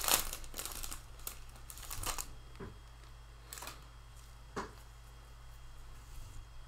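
Clear plastic wrapping on NFL Panini trading card packs crinkles and tears in sharp, uneven bursts close by, with quieter rustling between the louder crackles.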